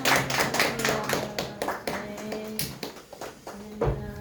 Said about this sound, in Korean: 큰 박수 감사합니다